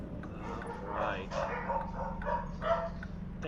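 Dogs yip and whimper in short, excited bursts close by, several overlapping calls across a few seconds, with a person talking over them.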